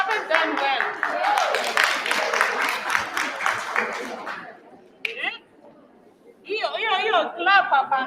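Clapping from an audience at a women's leadership academy session, a burst of applause mixed with chatter for a few seconds, then a pause and someone talking.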